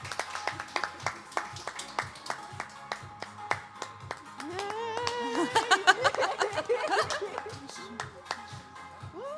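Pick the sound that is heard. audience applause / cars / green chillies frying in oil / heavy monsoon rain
audience applause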